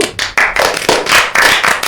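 A group of people clap their hands in a burst of applause during a casual talk session, with dense, overlapping claps rising to a steady loud patter for about two seconds and no voices.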